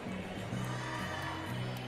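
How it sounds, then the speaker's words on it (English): A basketball game crowd sings and cheers along to a song, a sustained, moderately distant mass of voices with a tonal music line running underneath. "And the crowd is getting into it."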